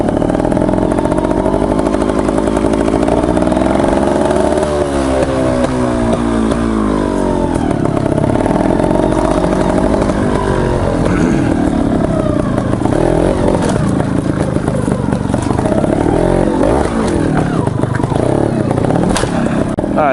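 A motorbike engine revs hard and continuously, its pitch rising and falling through repeated throttle blips with some mechanical clatter, loud and close for the whole stretch, heading toward a dryer set up as a target.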